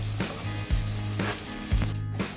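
Pointed gourd (parwal) and potato sauté in a pan, giving a steady close sizzle with a few louder stirring scrapes spaced through it.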